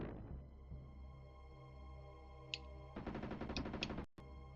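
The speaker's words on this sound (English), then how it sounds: "I'll start with my with my SMG, and switch over to the shotgun to finish him off" Gunfire from an SMG and a shotgun in the Jurassic Park: The Chaos Continues video game: a single sharp shot, then a dense second-long burst of rapid fire over a low hum, cut off abruptly.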